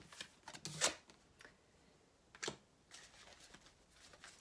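Tarot cards being shuffled and handled, quiet close riffling bursts near the start and in the middle, with faint papery rustles between them.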